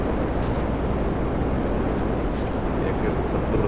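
Steady, loud roar of a fighter jet engine in GTA Online, a broad continuous rumble running unbroken through the whole stretch with a faint voice underneath.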